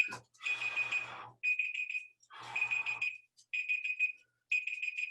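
A timer alarm ringing in repeated beeping bursts with short pauses between them, steady and moderately loud, mixed with bursts of noisy rustling during a dryland fitness workout for swimmers.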